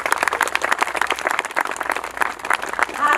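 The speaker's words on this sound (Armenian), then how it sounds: "Ծափահարություններ։" Wedding guests at a ceremony break into dense, lively applause, a crowd of hands clapping steadily and loudly throughout.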